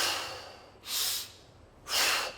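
Two deep, slow breaths drawn in and pushed out through the nose and mouth during a breathing exercise, each a soft airy swell, close and alone.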